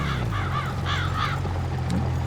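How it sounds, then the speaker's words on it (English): Crows caw repeatedly in a farming video game, several rough wavering calls in quick succession over a constant low droning background, with a brief sharper sound near the end. "Off you go, crows."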